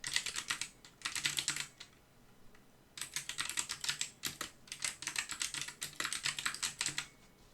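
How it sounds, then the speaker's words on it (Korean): A chart title is typed on a computer keyboard in a presentation program. Steady runs of close, crisp key clicks come in three bursts with brief pauses, over a faint background hum and no speech. "입력하겠습니다."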